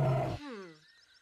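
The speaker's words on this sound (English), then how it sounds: "This animal has stripes on its fur. It's a tiger." A tiger gives a single short roar in a children's animal program, a loud, close, rough burst that trails off into a falling, fading tone.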